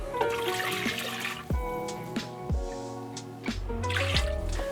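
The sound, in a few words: pouring braising liquid into a pot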